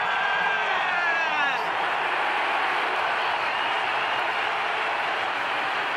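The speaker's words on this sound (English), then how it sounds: "Huge applause from the Indian fans all around the ground." Loud, sustained crowd applause and cheering filling Adelaide Oval at a cricket match, steady throughout with commentary-like voices mixed in.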